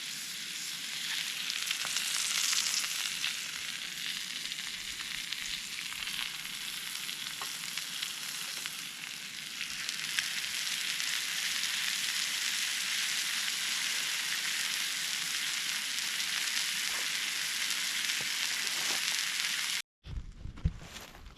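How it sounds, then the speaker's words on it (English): Steak searing in a pan over a campfire at a forest campsite, a steady loud sizzle and hiss that holds continuously before cutting off abruptly near the end. "Not getting a very good sear on it."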